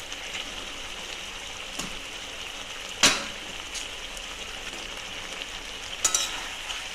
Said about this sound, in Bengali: আর দিয়ে দেবো মাছের মাথাটা।